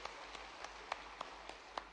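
An audience claps at a public rally, giving sparse, evenly spaced single claps that sound faint and distant.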